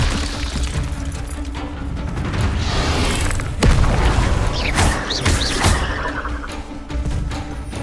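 Confringo blasting-spell explosions in the video game Hogwarts Legacy, loud booms and crashes over dense battle noise, with several sharp impacts in quick succession.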